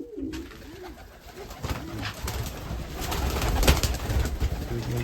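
Pigeons in a backyard coop coo close by, a few rolling throaty calls near the start, then rustling, shuffling and wing movement fill the rest.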